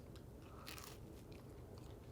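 A bite into a crispy tortilla quesadilla gives a sharp crunch, followed by a few softer crackling chews, close and quiet.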